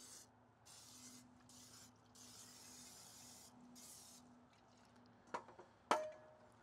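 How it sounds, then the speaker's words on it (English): Nonstick cooking spray on the sides of a camp Dutch oven, two short hissing bursts near the end after a stretch of quiet outdoor background hum. "I'm going to take and spray the sides of my Dutch oven with some nonstick spray"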